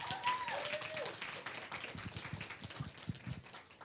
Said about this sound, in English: can we just have a final round of applause for them?